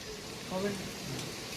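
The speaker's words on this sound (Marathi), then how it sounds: "पाऊस खूप आहे" Heavy rain with gusty wind comes in through a window as a steady wash of hiss, while a voice briefly murmurs underneath.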